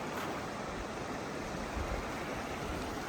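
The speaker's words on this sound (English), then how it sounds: "And a nice river spot." A river in Alaska flowing past a roadside camping spot, a steady broadband rush of water, close and constant without pause. No voices.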